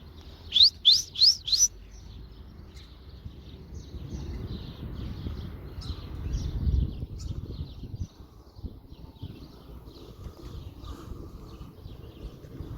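A bird sings a quick burst of bright, repeated chirps up close on a free-range chicken farm, then softer tweets continue over rustling and low background noise.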